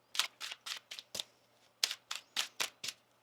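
Tarot cards being shuffled by hand, about eleven quick crisp riffles in a rhythmic sequence, close and fairly quiet, with a brief pause midway.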